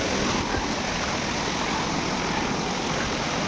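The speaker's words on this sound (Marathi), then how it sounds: "हे पाटाचं पाणी त्यांनी शेतीला घेऊन गेले" Water rushing steadily along an irrigation channel that carries it to farm fields, a loud, continuous broadband flow near at hand with no pauses and no voices.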